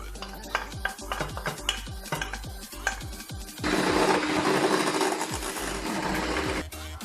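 Starch, flour and vanilla being stirred into lemon cheesecake batter with a utensil, giving rapid rhythmic clinks and scrapes against the bowl, followed by a steady whirring mixer for about three seconds, then more clinking.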